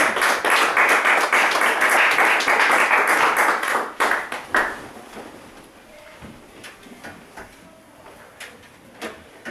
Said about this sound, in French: Let's give Jesus a big hand